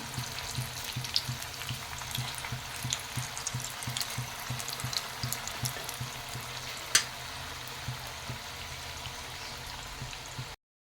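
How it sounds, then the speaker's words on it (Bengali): Cabbage and onion fritters fry in a pan of oil with a steady, soft sizzle, dotted with faint bubbling pops and one sharp clink, close and unbroken by speech. "সব পেঁয়াজগুলোকে উল্টে পাল্টে বারবার করে এদিক ওদিক ঘুরিয়ে ঘুরিয়ে খুব ভালো করে ভেজে নিয়েছি"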